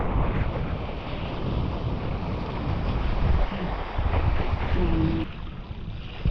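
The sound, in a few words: wind rising at the windsurfing spot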